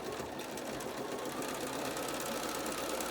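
A sewing machine stitches a fabric face mask casing for elastic, a fast steady whirring rattle heard up close and fairly quiet, running continuously without pause.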